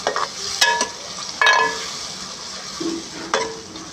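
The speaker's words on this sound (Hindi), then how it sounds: "प्याज को बिल्कुल अच्छे तरीके से भून लेंगे। हरी मिर्च और बारीक कटी हुई लहसुन मिक्स करेंगे इसको अच्छे तरीके से।" Onions, green chili and finely chopped garlic sizzle in a pan, with several sharp scrapes and clinks of a spoon stirring over a soft frying hiss, close up and without talk.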